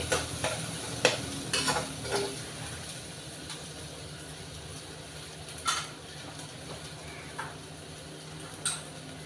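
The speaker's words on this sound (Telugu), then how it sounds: "కందిపప్పు కొంచెం వేయించుకోవాలి." Pigeon peas (toor dal) sizzle and crackle in hot oil while a spoon scrapes and clinks against the pan in occasional strokes.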